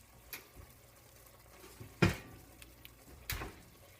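A hot cast-iron pan holding melted grease for cracklin cornbread is set down with a sharp metallic clunk, followed by a lighter knock, amid quiet kitchen background.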